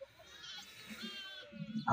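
Kuchaman breed goats on a goat farm bleat in a brief, faint mix of livestock calls, with a louder burst rising at the very end.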